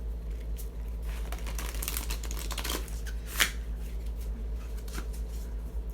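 Tarot cards are shuffled by hand during a live reading, a steady papery riffling with occasional sharper snaps, close and fairly quiet.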